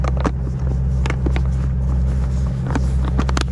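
A steady low rumble of boat engines idling on the Mississippi River during a fishing tournament, with occasional sharp knocks and clicks on top, close and fairly loud.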